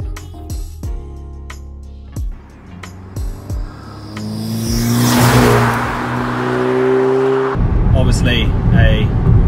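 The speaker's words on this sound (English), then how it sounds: "The road noise is loud and it's really raining." A facelifted Audi S3 drives through heavy rain, starting with sharp intermittent thumps and knocks and then building into loud tyre and road roar with engine drone and rising tones, while someone speaks over it.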